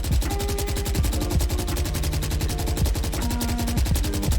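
Rifle spray in Valorant, a rapid, steady burst of automatic gunfire held for several seconds with recoil being controlled, loud and close with no talk.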